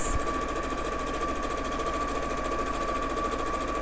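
A sewing machine runs steadily, stitching a half-inch seam allowance, its fast even mechanical whir heard up close and alone without a break.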